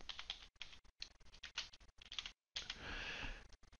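Computer keyboard typing while renaming a component in Fusion 360 CAD software: quick bursts of close, crisp keystrokes separated by short pauses, ending in a longer continuous run of taps.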